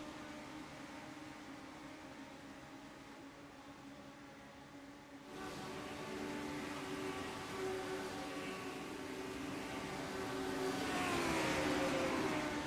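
A race car in the NXTGEN Racing Legends Cup rounds the final right-hander, its engine a steady tonal drone that jumps louder partway through and then swells further as it accelerates away.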